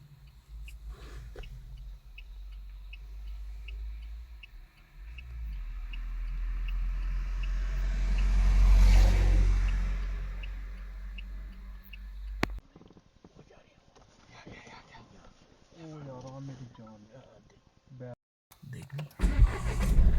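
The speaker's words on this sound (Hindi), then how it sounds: "गाड़ी आ रही पीछे।" A vehicle approaches from behind on a night road near a jungle village, its engine swelling from faint to a loud close pass and then fading, with people talking nearby throughout.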